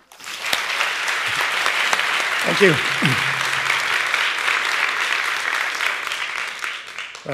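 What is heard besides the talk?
audience applause welcoming speaker to the stage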